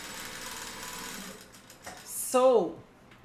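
An embroidery sewing machine stitches out a digitized design, its steady mechanical whirr running close and continuous before a voice briefly cuts in near the end.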